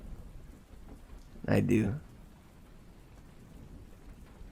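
Recorded rain noise plays as a steady, soft hiss throughout, with a short spoken reply briefly rising above it midway.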